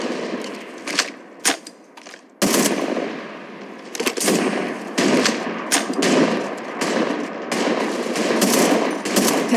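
Rapid automatic gunfire from the Apex Legends video game rattles in loud repeated bursts with short gaps between them.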